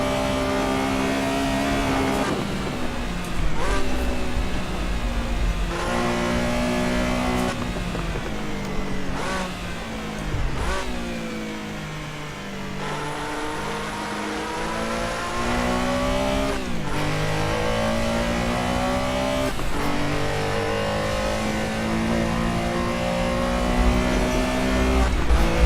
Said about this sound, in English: Just listen to that engine again.